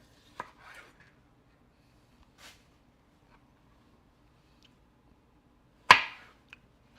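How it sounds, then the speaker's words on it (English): Slices of marinated beef are cut on a board for stir fry: a few sparse, separate knife chops, one sharp and loud near the end, with long quiet gaps between them. "So I'm just gonna cut up the last couple slices of it."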